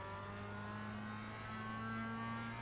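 Mazda Cup race cars in the iRacing video game run as a faint, steady high engine whine with a sustained tonal drone, no voices.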